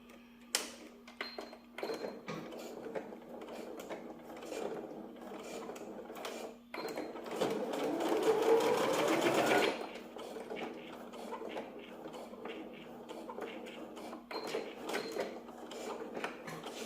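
A sewing machine runs in short stitching bursts and then a longer steady run as it stitches elastic onto a gathered wax-print cotton skirt, with no talk.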